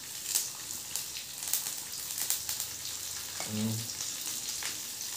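Cumin, mustard seeds and curry leaves sizzle and crackle steadily in hot oil for a Konkan wild-vegetable dish, with scattered pops, and a brief spoken word partway through.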